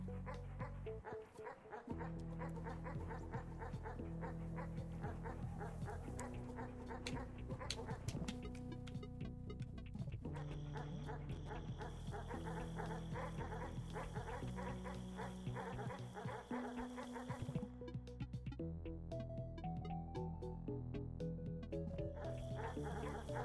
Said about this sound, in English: The dogs, they do bork. Bork, bork goes the dogs.